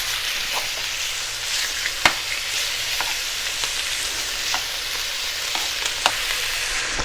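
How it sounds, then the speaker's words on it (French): Beef sears in a hot frying pan for bœuf bourguignon, giving a steady close sizzle and frying hiss with a few sharp pops and crackles spread through it and no talking. "Là, on va bien faire saisir."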